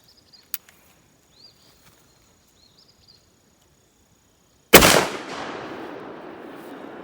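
A 10 gauge shotgun fires a single .395 caliber 00000 buckshot load at an outdoor range: one loud, close blast with a long rolling echo, after near silence with faint insect chirps.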